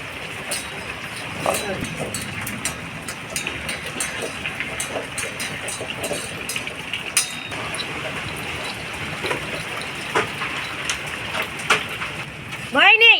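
Rain falls outside during a storm as a steady, close broadband hiss with scattered patters, continuing under ongoing talk for the whole stretch.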